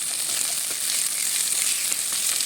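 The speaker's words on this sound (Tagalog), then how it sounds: "Isunod na rin natin ang, ang garlic. Haluin natin para hindi siya masunog. At sibuyas." Garlic and onion sizzle steadily in hot oil while being stirred, a dense, continuous frying hiss that stays close and fairly loud throughout with no voices.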